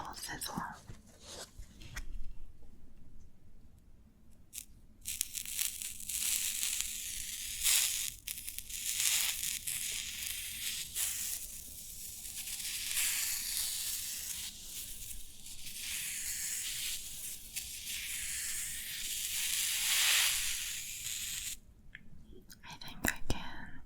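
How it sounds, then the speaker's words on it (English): A slightly damp sponge sizzles against a hot pan, giving soft crackling and hissing that swells and fades in long bursts, heard close with quiet whispered talk at times. "I think I can control the sizzle better this way."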